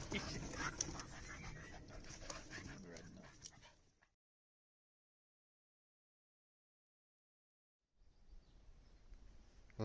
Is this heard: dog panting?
yes